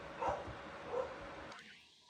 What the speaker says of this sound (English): Really, dogs? You have to start barking now?